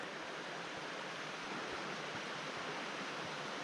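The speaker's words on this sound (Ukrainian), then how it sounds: "дивлюся, шум води, він не припиняється" Rushing mountain stream in the Carpathian forest in autumn, a steady broadband roar of flowing water heard from a little distance, continuous and unbroken with no voices.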